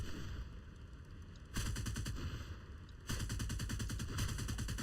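Aircraft cannons and machine guns firing in War Thunder, with rapid bursts in a dense rattling stream that steps up louder twice as more guns join in, steady to the end.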